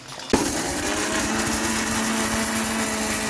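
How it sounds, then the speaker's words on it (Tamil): A kitchen mixer grinder whirs steadily in its jar, grinding dried red chillies and garlic into powder; the motor starts abruptly and holds a loud, constant high-pitched drone with a rattling churn throughout. "மிக்சி ஜாடியில் போட்டு அரைக்கணும் இல்லையா, பொடி பண்ணி எடுத்துக்கணும்"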